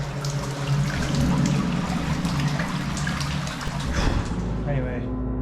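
Surface water trickling and dribbling into a bricked-up stream culvert, a steady close splashing trickle with echo, while a person talks over it.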